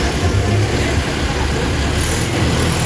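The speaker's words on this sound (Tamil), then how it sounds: "வண்டி போகுது, ஸ்டார்ட் ஆச்சு, ஸ்டார்ட் ஆச்சு" A car engine runs loud and close amid a busy outdoor scene with people talking, the motor holding a steady rumble as the vehicle starts and pulls away.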